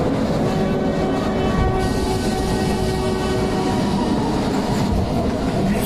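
A cartoon train rolls along its rails with a steady rumbling, rattling roar and faint sustained tonal hum, continuous and loud throughout, no voices.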